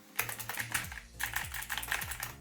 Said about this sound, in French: c'est le G512 SE avec les switches Blue qui font énormément de bruit